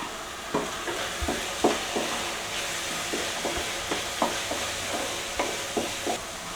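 Masala with salt sautéing in oil in a pan for a Tamil vegetarian pidi karunai masiyal, a steady close sizzle broken by regular scraping stirs of a spoon, with no talking.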